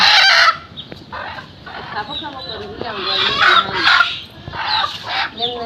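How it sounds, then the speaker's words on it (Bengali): A native desi chicken held at home before slaughter clucks and squawks in loud, agitated bursts close by, with short pauses between calls. "মুরগি রান্না করব বলে মুরগি ধরে নিয়েছি তো এখন হলো মুরগিটা আমরা জবাই করব"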